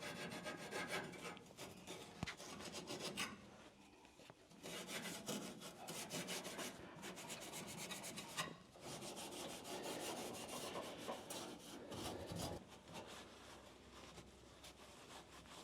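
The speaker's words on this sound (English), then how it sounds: "This is just a phosphatizer rust converter. I'm going to work it into the surface a little bit." Phosphatizer rust converter is worked by hand into the bare metal of a 1970-81 Camaro floor pan, producing quiet, continuous scrubbing and rasping strokes in an irregular rhythm, close up with no talking.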